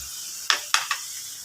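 Quiet frying of coconut milk in oil breaks into three short, sharp spatters in quick succession against a faint steady hiss.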